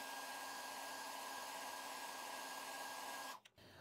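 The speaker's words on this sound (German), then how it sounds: "Im Zweifelsfall kann man mit dem Föhn darüber gehen" A hair dryer blows over watercolor paper with a loud, steady whirring hum for over three seconds, then cuts off abruptly.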